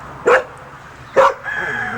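Two sharp dog barks ring out from inside a house, spaced about a second apart, moderately loud over a quiet background, followed by a faint lingering whine.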